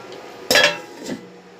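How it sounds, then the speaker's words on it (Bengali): A lid goes onto a pot of simmering fish curry with one bright metallic clank and a softer second clink a moment later. Both are close and clear. "আবারও আমি একটু ঢেকে দেব।"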